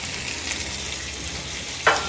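Chopped vegetables and tomato fry in a pan for bread upma, making a steady, even sizzle with a brief louder scrape or clatter near the end, close and moderately loud, with no one talking.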